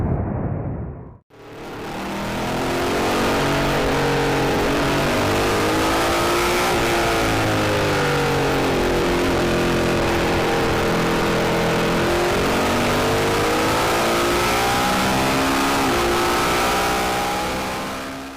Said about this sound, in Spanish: ahora un poquito más de sonido, este directo sin filtro desde el motor